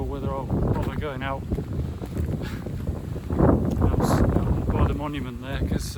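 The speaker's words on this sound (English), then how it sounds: "it's very windy today" Strong gusting wind buffets the microphone on an exposed hillside on a very windy day, roaring in low rumbling bursts under someone talking close by.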